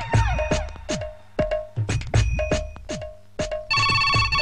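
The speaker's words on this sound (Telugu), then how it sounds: "అర్ధరాత్రి ఫోన్ ఏంట్రా బాబు?" A telephone ringtone plays at midnight, loud and close, in repeated bright electronic bursts with short gaps, ending in a denser run of tones.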